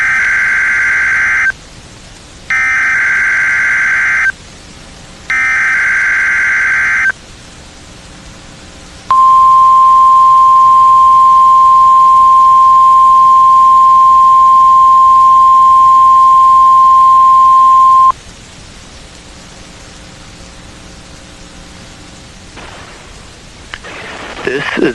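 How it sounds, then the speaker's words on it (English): A NOAA Weather Radio warning alarm test plays on a radio broadcast: three short bursts of a warbling data tone, then a long, steady, loud single-pitch attention tone lasting about nine seconds, followed by faint static. "The attention signals you just heard will automatically activate special receivers to warn of the impending hazard."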